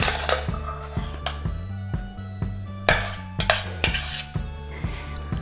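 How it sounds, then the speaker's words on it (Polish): Spoon clinking and scraping against a bowl as cooked kasza grain is transferred into it, several short clinks spread over a few seconds, close and alone. "Do miseczki przekładam kaszę."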